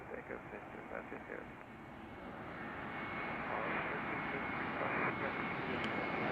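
An Airbus A320neo at Zurich Airport by runway 14, a broad steady jet engine roar rising in loudness as it builds, heard from a spotting position without talk.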